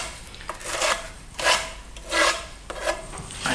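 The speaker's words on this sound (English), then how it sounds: "run it down, smoothing things off as I go" A Bondo blade scrapes and smooths a FirmoLux Piatto plaster finish in close, rasping strokes, about four separate passes, with no talking.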